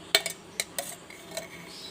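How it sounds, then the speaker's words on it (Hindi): Big spoonfuls of ghee, both pure and ordinary, go into a frying pan for atta halwa. A spoon clinks and taps against the metal pan several times over a soft background hiss. "फ्राई पैन के अंदर मैं 4 चमचे बड़े घी के डाल दूँगी"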